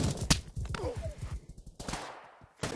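Shotgun sniper fire in Pavlov VR, a virtual reality shooter: a sharp close shot followed by a rapid rattling series of blasts and a few scattered later cracks, with other sounds mixed in.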